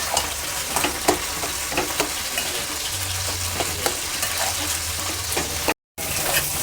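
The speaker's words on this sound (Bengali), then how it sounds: "এবার আমি ভালো করে এর সঙ্গে সব মিশিয়ে নেব।" A filling of cottage cheese with tomato sauce sizzles in a pan as a spoon stirs and scrapes through it, a steady frying hiss punctuated by repeated clicks of the utensil against the pan, with a brief dropout near the end.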